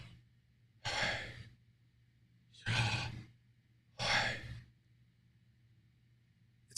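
Three slow, deliberate breaths sound close to the mic, each a soft whooshing exhale of about a second spaced evenly apart, with quiet pauses between them and a faint low hum underneath.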